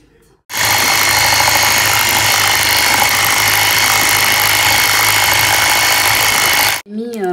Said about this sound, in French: je vais le passer au robot. pour le détendre un peu